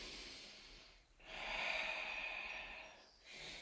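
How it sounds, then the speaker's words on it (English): A person taking a deep breath during a stretching exercise class, a long, breathy inhale or exhale lasting about two seconds, close and quiet, followed by the start of another breath. "Take a nice deep breath here."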